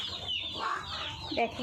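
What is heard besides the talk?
chickens clucking in a poultry farm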